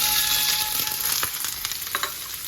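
Onions hitting hot olive oil in a pan for chicken liver, with a bright continuous sizzle close up and scattered crackles and stirring clicks.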